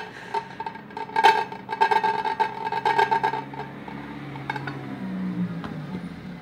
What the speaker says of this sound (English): remove the small plate from the soup plate